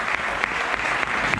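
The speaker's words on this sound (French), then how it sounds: "Donc je vous demande de l'applaudir, notre chronométreur qui est là" An audience at a trail-running race welcome conference applauds the timekeeper, a brief burst of dense, steady clapping from a crowd that stays close and fairly loud throughout.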